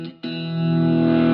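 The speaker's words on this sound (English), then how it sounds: "I'm going to play an open chord, and I'm going to manipulate this voice knob." A single open guitar chord is struck through a Joyo Oxford Sound overdrive pedal and rings out loud, thick and distorted after a brief lead-in note, sustaining steadily.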